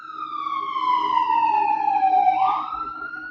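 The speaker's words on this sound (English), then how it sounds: "sorry about the siren, y'all." A passing emergency vehicle siren wails loud and steady, its pitch gliding slowly downward and dropping sharply as it goes by, with a low rumble of road traffic underneath and no talk.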